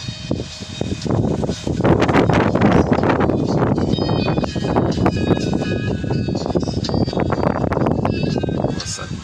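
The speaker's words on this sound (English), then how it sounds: "It's quite breezy here." Breezy outdoor wind buffets the microphone continuously, a loud, rumbling roar with gusty fluctuations lasting throughout, with a voice faintly underneath.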